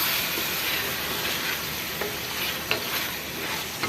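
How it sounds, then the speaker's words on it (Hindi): Cinnamon and black cardamom added to a sizzling pan while making gobi chicken, a continuous loud frying hiss with a few small clicks and stirring scrapes, no speech. "इस पॉइंट पे हम इसमें एक दालचीनी और एक बड़ी इलायची डालेंगे"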